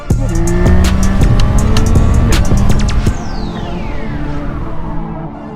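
A 2025 Yamaha MT-09 900cc motorcycle engine pulls loud and close while riding, its tone rising through a steady stretch before easing off into a falling whine and lower drone.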